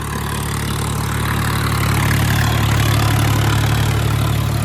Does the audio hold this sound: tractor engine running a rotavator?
yes